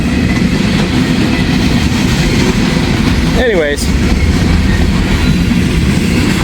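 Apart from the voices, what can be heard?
empty ethanol freight train passing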